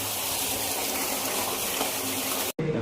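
Water runs steadily from a pipe, filling on a farm, a continuous close hiss and gush that cuts out abruptly near the end before resuming.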